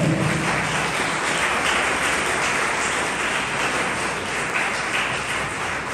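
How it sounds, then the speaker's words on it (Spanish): A church congregation applauds continuously with dense, even clapping that holds steady and loud for the whole stretch. "Den un aplauso al Señor."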